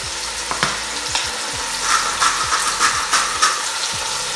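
Beef mince fries in hot oil in a pan for a spaghetti bolognese, giving a steady close sizzle broken by repeated scraping knocks of a spoon stirring the meat.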